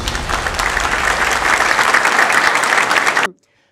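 Applause in the UN General Assembly hall after a speech by the South Korean president, a dense, steady wash of clapping from a large audience that cuts off abruptly.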